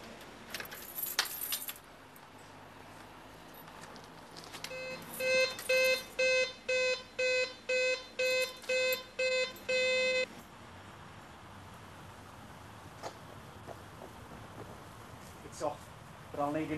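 A supermarket burglar alarm rings in a run of about nine evenly spaced, loud electronic beeping pulses, with scattered rustling and clatter before and after.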